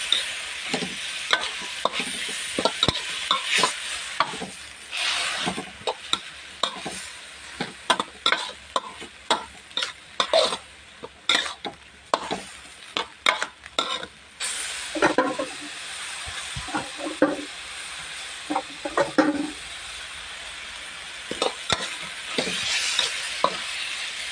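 Pork sizzles steadily in a hot pan while a utensil scrapes and stirs in quick, irregular strokes, clattering against the metal throughout.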